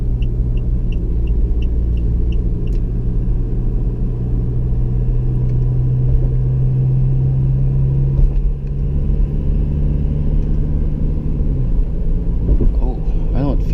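Steady engine drone and low road rumble inside a moving 2018 Toyota Fortuner with the gears shifted manually, a sustained low hum holding throughout with no clear rev spikes, heard from the cabin.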